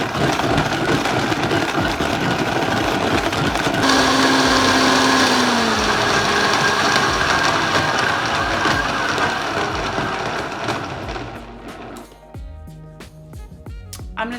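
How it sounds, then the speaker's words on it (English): A blender mixing chocolate dessert ingredients, with a loud continuous motor roar that holds steady and then winds down into a few quiet knocks near the end. "now that we've added everything to the blender, I'm gonna throw the lid on and we're gonna blend this"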